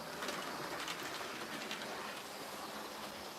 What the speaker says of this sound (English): And I've got a whiskey train coming through here.